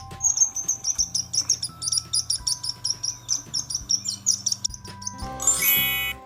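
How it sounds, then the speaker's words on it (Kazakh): Sparrow chirping in a steady run of short, quick tweets, fairly close and clear, with a brief burst of brighter chatter near the end. "sparrow."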